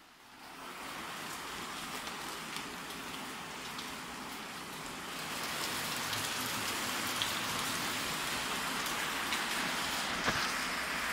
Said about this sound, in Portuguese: Vou mostrar para você mais um pouco da queda das águas. A vinda da chuva preciosa.